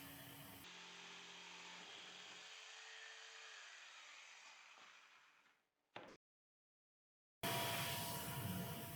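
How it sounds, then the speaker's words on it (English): A power tool drills a pilot hole and begins cutting a plywood blank for a window frame in a truck camper shell build, running steadily for several seconds, winding down, then a brief burst and a pause before harsh cutting noise resumes. "I'm just going to drill a pilot hole here, and we'll get started with cutting that out"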